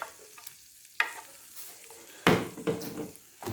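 Bread frying in butter in a pan: a close sizzle with several sharp scraping stirs of a utensil against the pan, and short quiet gaps between the bursts of activity.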